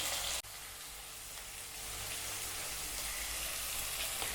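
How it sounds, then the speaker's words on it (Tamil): Steady sizzling and crackling of tomatoes sautéing in a hot pan, continuous and close, after a brief clatter at the start. "தக்காளி நல்லா வதங்கட்டும்."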